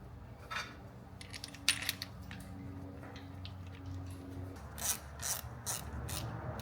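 Ratcheting clicks from a hand wrench tightening two 10mm bolts on a Nissan 370Z chain tensioner during an engine refresh, short clustered bursts of close metallic clicking with small taps between, no talking.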